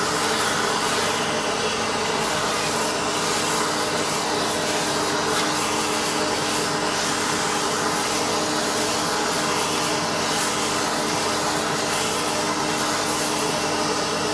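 A home coffee bean cooler pulls air down through a batch of freshly roasted whole beans. Its loud, steady, vacuum-like roar holds unbroken throughout, with faint rustling of the beans beneath it.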